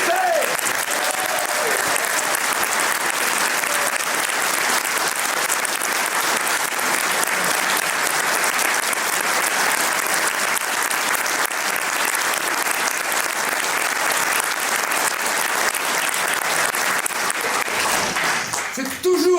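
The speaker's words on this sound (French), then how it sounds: "un tonnerre d'applaudissements pour Maurice de Suchet" Sustained theatre audience applause for a performer in Bossemans et Coppenolle, a dense, even roar of many hands clapping that holds steady for the whole stretch before tapering at the end.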